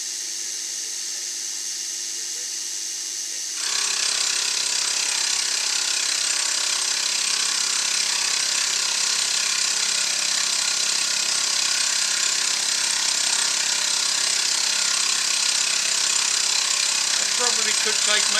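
A milling machine takes a roughing cut on a lathe cross slide, cutting the outside radius: a loud, steady broadband grinding roar starts abruptly after a quieter motor hum and continues unbroken, close up.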